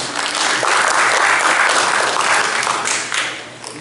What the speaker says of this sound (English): please let's give a round of applause to the presenters today